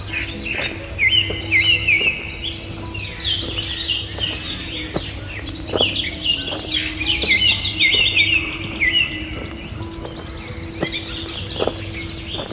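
Many birds chirp and twitter in a leafy Dubai neighborhood garden in the morning, with overlapping close calls and trills over a soft steady background hum.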